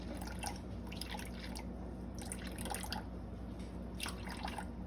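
Water pouring into a bowl for sourdough bread dough, a steady close trickle with dripping splashes that swell in a few bursts, with no talking.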